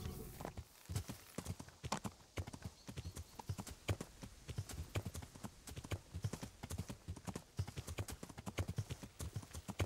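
Horse hooves clip-clopping at a steady trot in the video game Kingdom Come: Deliverance, a regular rhythm of close, crisp hoof strikes throughout, fairly quiet overall.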